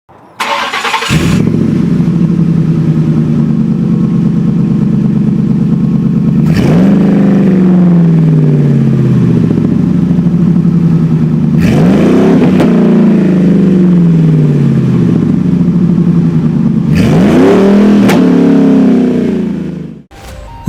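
A Ford F-150 with the 5.4 Triton V8 and an aftermarket exhaust revs hard four times, each loud throaty burst climbing and then falling back to a steady, rumbling idle, close and continuous with no talking.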